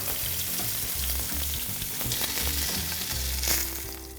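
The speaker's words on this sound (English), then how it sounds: "So now this is gonna get a nice sear in our hot pan" Lamb rack searing in a hot pan, a loud, dense, continuous sizzle up close, with low rumbling pulses and occasional sharper crackles and no voices.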